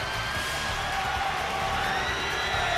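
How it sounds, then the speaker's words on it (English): Dense rugby league crowd noise at a St Helens v Wigan match, a steady wash of distant cheering and whooping that fills the stadium throughout. "Great crowd inside here, and Wigan have travelled in numbers as well"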